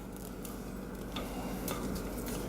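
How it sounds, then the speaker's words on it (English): Spatula stirring banana bread batter in a bowl, soft continuous scraping and wet squelching with a couple of light taps against the bowl, quiet and close, no talk. "So get in there and give it a stir."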